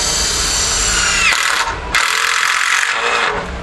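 A percussion drill drives screws into soft sawn timber for a garden gate's T-hinge, whining loudly and close, cutting out briefly near the middle before surging back.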